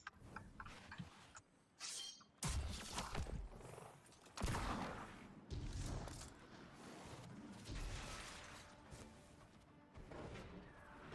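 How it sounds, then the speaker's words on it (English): A shotgun fires in a video game, sending out a series of heavy, crashing blasts at irregular intervals, each one followed by a short decay. The volume is fairly low and no one talks. "we're going to try it with this shotgun now"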